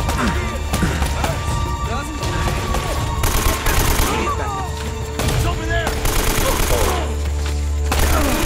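Gunfire in Uncharted: Drake's Fortune, dense bursts of rapid shots and scattered single cracks over a loud continuous action backdrop, with sporadic impacts throughout.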